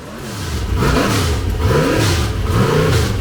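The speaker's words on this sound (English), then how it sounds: "the roar of engines starts to reverberate through the paddock" Loud, continuous race car engine roar with repeated rising and falling revs, cars accelerating and easing off close by in a racetrack paddock.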